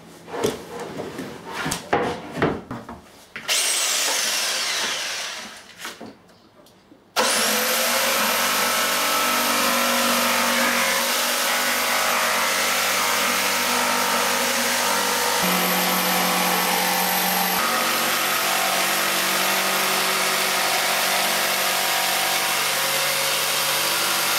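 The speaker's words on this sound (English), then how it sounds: "As the bandsaw's not got the mount to take that, I'll use the jigsaw for that job." A jigsaw cuts wood for a small stool on casters, a loud, steady mechanical buzz running continuously for most of the time after a few seconds of brief handling clatter.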